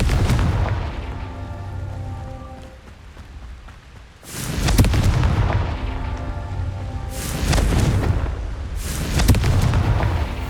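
Confringo blasting spell in Hogwarts Legacy going off as repeated loud, broad booming bursts, three or four heavy blasts over a low rumbling background.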